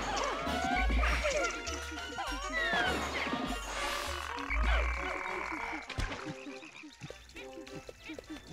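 Frog creatures in the Pikmin 2 video game croak repeatedly amid busy game sounds, with low thumping hits and chirpy effects layered throughout.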